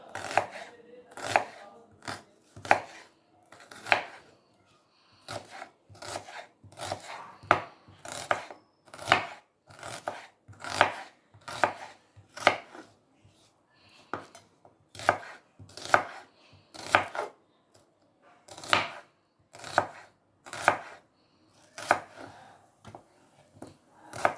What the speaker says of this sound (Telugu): ఉల్లిపాయలు కూడా పొడుగ్గా కట్ చేస్తున్నాను